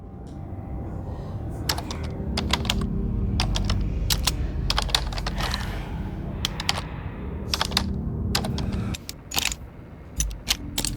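Bursts of computer keyboard typing in the video game Workaholic Simulator, quick clicky keystrokes over a steady low hum, with a few isolated taps near the end.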